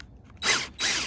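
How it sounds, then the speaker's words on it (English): A power drill bores a hole in the hull of a 2000 Pursuit 3400 boat, run in reverse first to avoid chipping the paint: two short, close bursts of whirring grind separated by a brief pause. "I'm going reverse first to start and cut my hole so I'm not chipping the paint"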